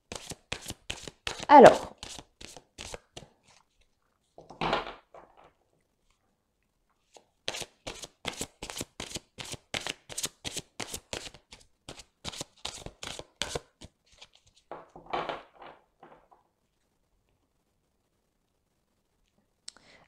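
Belline oracle cards being shuffled and drawn for a reading, soft rapid riffling clicks in short bursts with a few louder slaps, close and quiet, with a brief spoken word.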